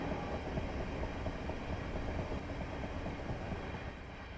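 A Class 375 electric multiple unit running in Train Simulator 2019 on a Chatham Main and Medway Valley route toward Strood, giving a steady, loud rolling rumble with faint rhythmic wheel clatter throughout, with no voices.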